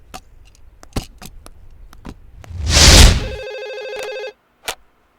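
Telephone ringing for an incoming call in a Telugu movie scene, a loud burst of bright ringing lasting about a second and a half, preceded and followed by sharp clicks and knocks, with no talk.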